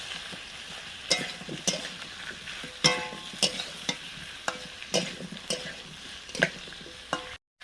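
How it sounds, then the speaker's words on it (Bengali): Vegetables stirred and frying in a pan with ginger paste added, a steady sizzle broken by repeated sharp scraping strokes of a spatula at an uneven rhythm, close and moderately loud, no talking. "সবজিগুলো হালকা ভেজে নেওয়ার পরে এখন দিয়ে দিচ্ছি আদা বাটা"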